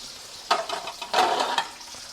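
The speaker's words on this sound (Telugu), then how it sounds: "సూపర్గా వేగాయండి ఇలా వేగాలి బాగా" Vegetables fry in a pan for roti pachadi, with a few short bursts of sizzling and stirring over a faint, steady background, close and moderately loud.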